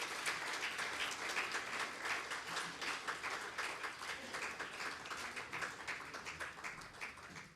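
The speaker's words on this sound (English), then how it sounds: "Can we hear a round of applause for Robert, please?" An audience at a panel discussion on coaching applauds, with a dense, steady patter of many hands clapping that gradually fades toward the end, and no one speaking.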